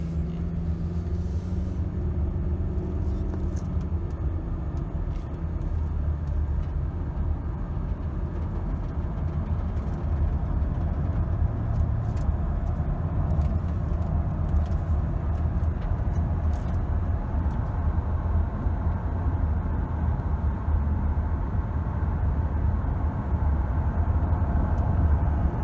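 A 2007 Toyota Camry hybrid driving on a road, steady low road and tyre rumble with a faint engine hum, heard from inside the car with no one talking.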